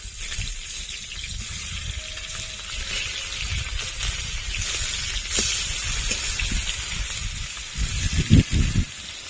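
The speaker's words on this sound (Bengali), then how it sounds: "মাছগুলো উল্টে দেব।" Pangas fish frying in a small amount of oil gives a steady hiss and sizzle, ending in a few louder clattering knocks as the pieces are turned in the pan.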